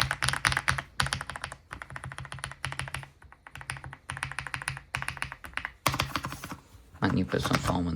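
Fast mechanical key clatter from an Aula S75 Pro keyboard with foam inside, a dense run of crisp taps in bursts with brief pauses, close and fairly loud, with no talk over it.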